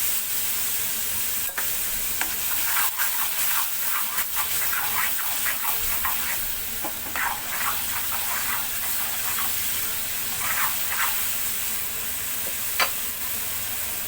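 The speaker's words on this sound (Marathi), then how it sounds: "याच्यामध्ये आता आपण पालक आणि कोथिंबीरची प्युरी टाकून घेणार आहोत" Spinach and coriander puree poured into a hot pan for dhaba-style dum aloo, giving a steady hiss and sizzle with soft stirring and scraping throughout, fairly quiet, with no talking.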